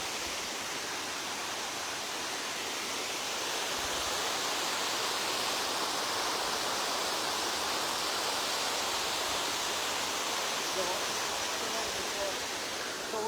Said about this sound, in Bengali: পাহাড় থেকে পানি পড়তেছে